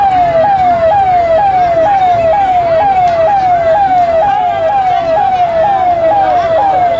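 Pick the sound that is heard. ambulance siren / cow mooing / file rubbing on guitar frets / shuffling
ambulance siren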